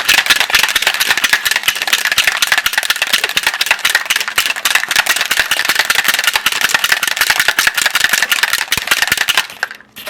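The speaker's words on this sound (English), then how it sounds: "we're going to shake this really well" Rapid, continuous rattling of a drink being shaken hard inside a closed container, steady for about nine seconds before stopping abruptly.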